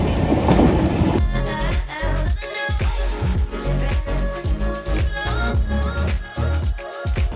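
A London Underground tube train over 50 years old rattles along, with rhythmic clickety-clack of the wheels over rail joints and a loud rumbling roar close by.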